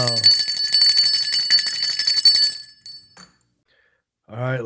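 A bell rings as the intro to a comedy podcast, a bright, sustained metallic ringing with rapid repeated strikes behind a speaking voice, then cutting off into silence before talk resumes.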